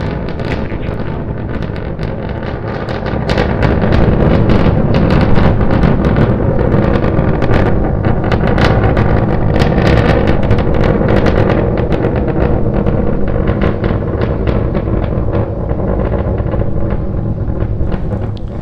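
SpaceX Starship SN9 rocket engines roar during a test flight to 10 kilometers altitude, now climbing on two engines after one shut down: a loud, ragged, continuous crackling roar that builds and stays heavy, with no voices.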